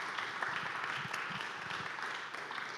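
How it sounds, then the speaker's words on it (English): An audience applauds after a talk by Monica Haslip, founder of Little Black Pearl, with steady, fairly soft clapping from a crowd that continues evenly throughout the short stretch. "Let's give her a round of applause."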